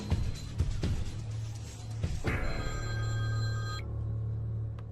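In a Punjabi comedy film scene, a mobile phone rings with a steady electronic tone for a second or so before stopping abruptly, after a few soft knocks and thumps indoors.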